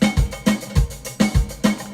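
Ketron SD90 arranger keyboard playing a folk user style with tarabuka-type hand drum: a punchy, regular groove of deep low hits with layered percussion and accompaniment, loud and close.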